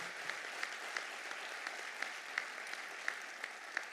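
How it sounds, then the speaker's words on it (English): A crowd at a public announcement event applauds continuously, a soft, even wash of clapping heard from a distance, with a few sharper claps standing out. "So let's give them a round of applause"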